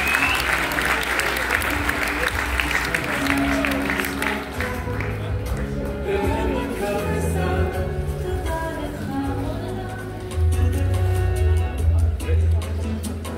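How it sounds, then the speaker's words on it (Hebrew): Sustained applause from an audience at a graduation ceremony in Ashdod, dense and loud clapping that swells and continues, with voices and music mixed in. "איילת, מחיאות כפיים, בבקשה"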